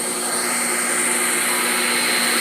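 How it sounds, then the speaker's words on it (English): An electric hand mixer whirs steadily and loudly while beating lemon cake batter, giving a constant high motor whine with no talk over it. "excuse the noise while the beaters or while the mixer is running"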